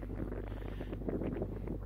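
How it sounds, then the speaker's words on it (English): Steady wind buffets the microphone with a low, muffled rumble and soft gusting flutter throughout, fairly quiet and close, on a sailboat at Lake Powell. "It's a little windy."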